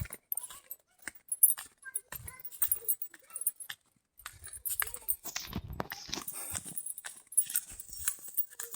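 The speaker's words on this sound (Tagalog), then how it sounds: "May ano dyan, may aso." A dog in a rural outdoor setting, heard in scattered short yelps and rustling bursts amid jangling and clattering movement, with brief voices nearby and uneven loudness throughout.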